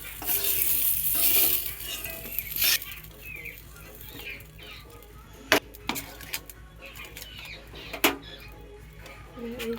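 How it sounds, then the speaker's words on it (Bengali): Potatoes frying in a pan give a bright sizzle at first, then the hiss fades beneath clinks and scrapes of a utensil stirring and lifting them out, with a few sharp taps against the pan. "বেশি ভাজলে আবার কালো হয়ে যাবে।"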